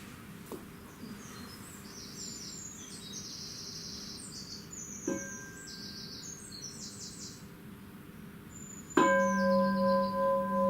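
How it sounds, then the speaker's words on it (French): Mindfulness bell struck once near the end, a clear resonant ring that sustains and slowly fades, preceded by soft birdsong and chirping in a quiet outdoor setting. "On va revenir à un son de cloche pour expérimenter le bonheur."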